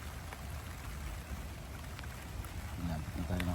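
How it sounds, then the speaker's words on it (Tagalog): Rain pours steadily outdoors at an American home during a workout, a dense continuous hiss of drops on surfaces, with a few louder low knocks and a voice briefly talking near the end. "Umulan na."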